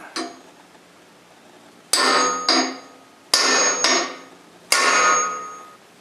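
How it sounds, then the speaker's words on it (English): Five sharp metallic hammer blows driving a lathe drive spur into a wooden blank for a French rolling pin, close and loud, striking in uneven pairs with a bright ringing decay after each, with no talking. "then I'll drive it home with the hammer"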